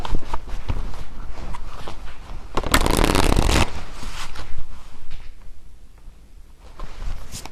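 A deck of tarot cards is shuffled up close, quick riffling and flicking with a louder burst of dense rustling in the middle, then quieter handling.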